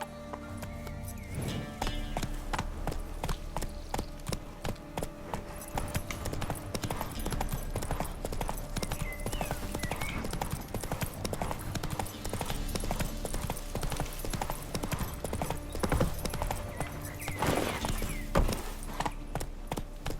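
Steady clip-clop of a horse galloping in The Witcher 3, a continuous, fairly loud rhythmic hoof pattern running throughout, with game ambience and music beneath and a brief whinny-like sound near the end.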